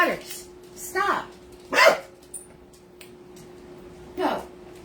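A dog named Butters barks four times in separate, loud bursts spaced over a few seconds, with quiet background between the barks.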